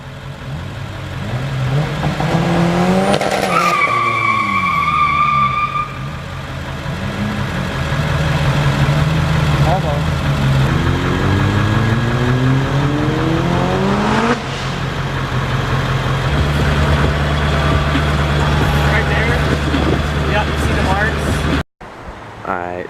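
Car tire burnout on a tire that is already flat: a loud engine revs and roars in rising and falling surges across about twenty seconds, with sustained high-pitched squealing early on, then a sharp cutoff near the end.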